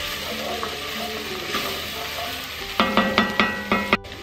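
Minced garlic sautéing in a soup pot, a low steady sizzle, then a run of quick, sharp spoon taps and scrapes against the pot near the end, with no one talking.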